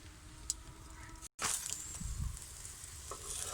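A paratha with ghee fries on a hot griddle, giving a soft, steady sizzle with faint crackles and a brief scrape or stir partway through. It is quiet and close, with no talking.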